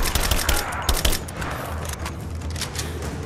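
Dense, rapid gunfire from a firefight in the video game Rise of the Tomb Raider, a continuous loud volley of overlapping shots with heavier bangs near the start.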